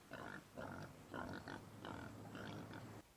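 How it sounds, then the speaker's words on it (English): A pig oinks and grunts in a series of short, close bursts, about five in quick succession, with a low hum underneath. "I love how movies have pigs oinking constantly"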